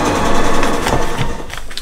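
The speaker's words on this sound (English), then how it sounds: "I'm gonna go stitch on my number 5 line." A sewing machine stitches a seam on a foundation paper-pieced quilt block, a loud, steady rapid whirr close up that eases slightly near the end.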